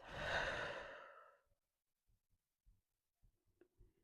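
A deep breath in and a long exhale, close and breathy for about a second and a half, followed by near silence with a few faint ticks.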